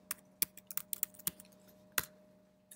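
Computer keyboard typing during a university programming lecture, a series of irregular sharp keystroke clicks, fairly faint, over a low steady room hum, with no talking.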